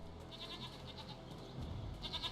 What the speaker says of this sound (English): Oh, it's goats.